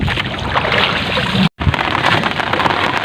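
Steady roaring wind and choppy water wash over a fishing boat near Corregidor Island, broadband and loud, with a brief dropout in the middle, as rain begins.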